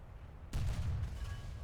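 A tank cannon on a Dicker Max in War Thunder fires once, a sudden heavy boom with a deep, rumbling tail that lingers and slowly fades, heard close and alone.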